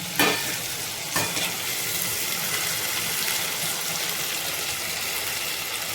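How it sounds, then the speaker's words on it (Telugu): Tomatoes and moong dal being stirred in a hot cooking pan, a close steady sizzle with two sharp scrapes of the spoon near the start, then continuous frying hiss. "బాగా తిప్పుదామండి, ఒకసారి అన్నీ కలుపుకున్నాం."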